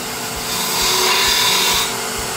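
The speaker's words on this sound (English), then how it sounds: "I'm going to cut a little cove right here" A woodturning gouge cuts a small cove into a wooden Christmas ornament spinning on a lathe, giving a steady close scraping rasp that swells in the middle and eases off, with the motor's low hum underneath.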